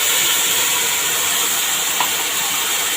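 Milk poured into melting sugar in a pot sets off a loud, steady, broadband hiss that holds evenly throughout, close and without speech.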